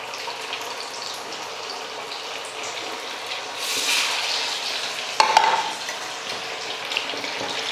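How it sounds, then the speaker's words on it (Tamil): Masala-coated fish frying in hot oil in a kadai. A steady, moderate sizzle rises and swells, with a sharp crackling burst partway through before it settles back into continuous frying. "கடாயில் எண்ணெய் ஊற்றி வச்சுட்டு எண்ணெய் சூடேறிடுச்சு இப்போ மீன் போட்டுக்கலாம்"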